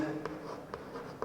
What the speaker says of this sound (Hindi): राइट द फॉर्मूला, मैं तो हमेशा लिखता हूँ यार फॉर्मूला